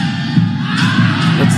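A cricket crowd at a Pakistan vs Nepal T20 match cheers and shouts steadily in a brief, dense swell of voices and whoops.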